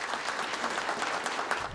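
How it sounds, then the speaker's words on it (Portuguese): Steady applause from a church congregation, many hands clapping evenly throughout, moderately distant. "aplausos."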